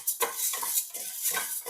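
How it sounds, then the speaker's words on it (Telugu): Toor dal being dry-roasted in a pressure cooker pot, stirred with a metal spoon that scrapes in a steady rhythm of short scraping strokes, close and fairly clear with no talking. "కుక్కర్ గిన్నె తీసుకొని కందిపప్పుని తీసుకొని వేయించుకోవాలి."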